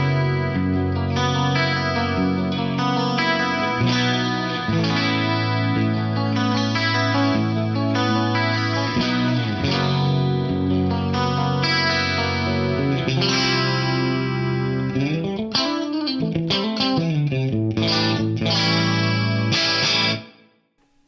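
Electric guitar through an Axe-Fx III classic effects recreation preset, shimmering chorus and pitch-shifted layers over sustained chords and melodic lines, rich and continuous for about twenty seconds before fading out, with no talking.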